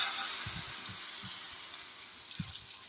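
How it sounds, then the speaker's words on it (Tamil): Water pouring into a pot of crab curry, a soft, steady splashing stream with a few low bubbly plops, fairly quiet and close. "இப்போ தேவையான அளவு தண்ணி ஊற்றி"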